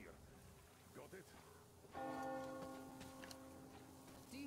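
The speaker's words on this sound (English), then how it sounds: "Do you hear that bell?" A bell rings in a wartime scene of the video game Oilrich, a sustained resonant toll at moderate distance that rises over quiet background ambience and lingers.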